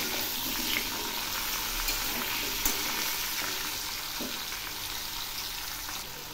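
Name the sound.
stir-frying drumstick vegetables with salt and turmeric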